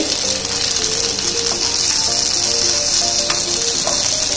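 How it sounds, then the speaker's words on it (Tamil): Fish frying in hot oil with a steady, dense sizzle and crackle running loud and unbroken throughout, close by, with no talking. "இப்போ பாருங்க 2 சைடும் மீன் நல்லா பொரிஞ்சிருச்சு."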